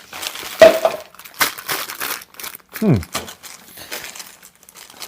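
Resealable plastic bags crinkle and rustle in short bursts as they are opened during an unboxing of board-game table parts, with a few light clinks between them and a voice speaking in places.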